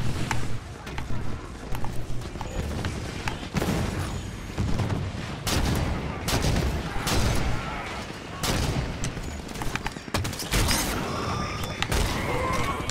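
Turrets firing in Halo 5, rapid repeated bursts of gunfire and booms in close, chaotic layers throughout, with mechanical clatter and voices mixed in among the shots.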